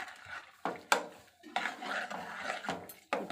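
Spoon scraping and clattering in a pan while cabbage and banana stem stir-fry is mixed, with several sharp knocks and softer scraping strokes at close range.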